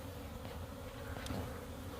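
Dense, steady buzzing of many honeybees close by in a disturbed hive in winter, a continuous drone with a brief higher whine from one passing insect.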